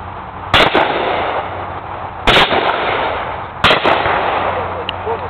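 Three loud, sharp shotgun blasts fired at clay targets crack out at irregular intervals, each followed by a brief echo, over a steady outdoor background hum.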